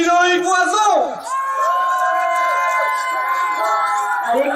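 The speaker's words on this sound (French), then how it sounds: "On va l'applaudir bien fort" Spectators at a Stihl Timbersports French Trophy competition in Schirrhein cheer and whoop for a podium finisher, loud and close, with shouted voices and yelling rising over the crowd throughout.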